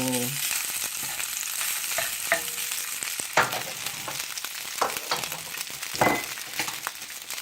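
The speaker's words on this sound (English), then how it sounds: "we're just gonna fry up the rice really fast" Rice frying fast in leftover garlic oil in a pan, a loud steady sizzle broken by sharp scraping stirs and clinks of a utensil on the pan, close up.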